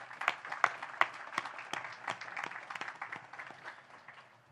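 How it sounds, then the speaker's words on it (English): At a US Navy ship commissioning ceremony, an outdoor crowd gives scattered, sparse applause with distinct individual claps that slowly thin out. "So how about a big round of applause for all those folks."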